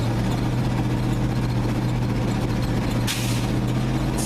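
A classic truck's engine drones loudly and steadily while the driver brakes slowly with its air brakes, and a short hiss of air bursts out near the end.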